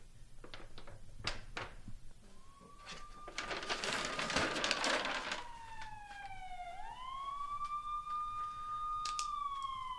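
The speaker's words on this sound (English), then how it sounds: "Do you hear sirens?" A wailing siren rises and falls, steady and fairly close, after a burst of broadband noise and a few sharp clicks early on.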